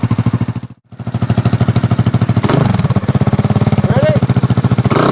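Kymco Downtown 300i scooter fitted with a Delkevic exhaust, loud and close-up: a pulsing single-cylinder engine note that dips briefly near the start, then rises and keeps throbbing evenly as it rides.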